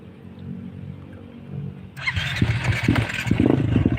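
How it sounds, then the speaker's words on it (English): A cold motorcycle engine cranks and catches after a quiet idle-like hum, then runs roughly and unevenly with sputtering, loud and close to the microphone. "My bike's really cold. It doesn't run very good cold."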